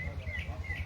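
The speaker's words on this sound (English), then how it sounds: "You hear that bird?" A small bird chirps twice, faint and distant, over a low background hum.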